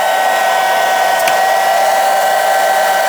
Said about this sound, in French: il n'y a eu absolument aucune interruption sur le fonctionnement du sèche-cheveux